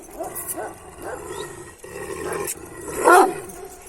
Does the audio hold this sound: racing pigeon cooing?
no